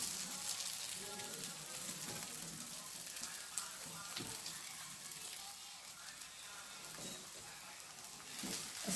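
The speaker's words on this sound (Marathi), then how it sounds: "आता गुलाबी होईपर्यंत कांदा मी परतून घेते।" Chopped onions sautéing in oil in a pan for kande pohe, a steady close sizzle with soft crackles and the occasional scrape of stirring, continuous with no talk.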